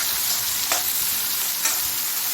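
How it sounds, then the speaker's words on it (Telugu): Chopped tomatoes fry in a pan with a steady, close sizzle while a spatula stirs them twice, each stroke a brief scrape over the continuous crackle, with no talking. "టమాటోస్ కూడా కొంచెం మెత్తగా అయ్యే వరకు ఫ్రై చేసుకోవాలి."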